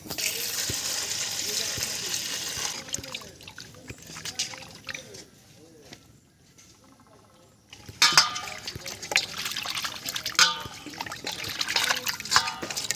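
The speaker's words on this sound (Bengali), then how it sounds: "জলটা ফেলে দিই" Bloody rinse water from washing freshly caught local magur catfish is poured out, splashing and sloshing in bursts with a brief quiet gap midway, while a voice talks over it.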